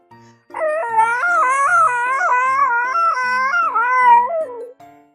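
A person's voice imitates a dog howling while reading a children's story aloud, one long, wavering, sung howl of about four seconds, loud and close against a quiet background.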